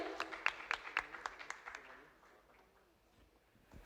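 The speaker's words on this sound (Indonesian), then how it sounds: "Tepuk tangan sekali lagi untuk Nucha Lale" Audience applause at a youth culture camp appreciation event, a burst of clapping that is strongest early on and then thins and fades over a few seconds.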